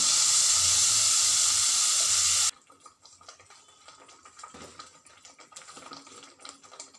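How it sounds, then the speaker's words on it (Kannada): Ground masala paste for green peas masala hits a hot pan with a loud, bright hissing sizzle that lasts a couple of seconds, then drops abruptly to faint, crackly bubbling. "ಈಗ ಮಸಾಲೆ ರುಬ್ಕೊಂಡಿದ್ದಲ್ಲ ಅದನ್ನು ಹಾಕ್ತಾ ಇದ್ದೀನಿ"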